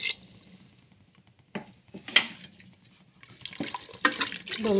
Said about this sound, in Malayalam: ഇനി നമുക്ക് കുറച്ച് വെള്ളം ഒഴിച്ച് കൊടുക്കാം